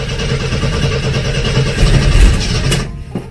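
An old engine with a carburetor, manual clutch in neutral, cranks steadily and catches, its loud continuous churn rising to a brief roar before cutting off near the end.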